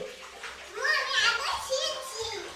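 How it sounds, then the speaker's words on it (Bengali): Water splashing as a child's whole head is wet during a bath at home, soft and close, mixed with a child's chatter and an adult voice speaking over it. "পুরো মাথাটা ভিজিয়ে স্নান হয়ে গেছে"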